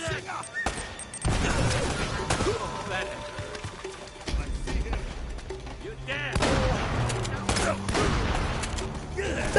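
Shotgun blasts and other gunfire from a shooter video game crackle in dense, overlapping bursts throughout, loud and continuous, while players talk excitedly over the action.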